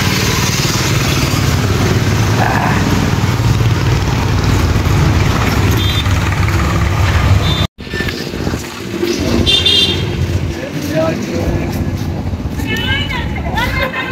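A motorcycle ride on a road, with a steady engine drone and road rumble throughout, a brief dropout midway, and faint voices in the background.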